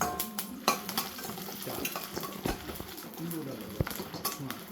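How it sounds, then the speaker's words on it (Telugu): Cucumber seeds roasting in a little oil in a pan, with soft sizzling, scraping and stirring clatter against the metal, close by, while a voice speaks intermittently. "సరే, ఇవి కూడా దోరగా వేయించుకుందాం."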